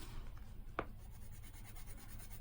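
A Swukonart colored pencil scratches faintly across paper in soft, close strokes, with one brief sharper tap partway through against a quiet background.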